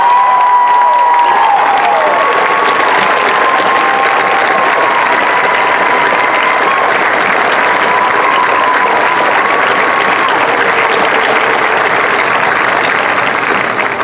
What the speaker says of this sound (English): Please continue to give these young men and women a round of applause for their service.